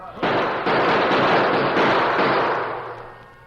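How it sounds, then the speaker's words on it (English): Several gunshots fired into the air as a short staged battle in a western radio drama about stagecoaches, heard as a dense, loud burst of overlapping cracks and rumble that fades toward the end. "Right after we fire a few shots in the air."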